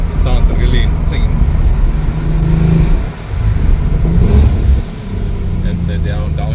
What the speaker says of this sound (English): So I'm playing on the pedal shifts. It sounds really insane.